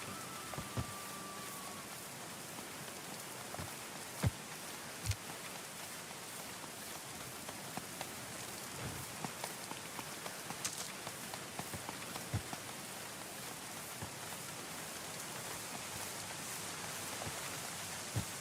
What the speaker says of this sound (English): some solid rain.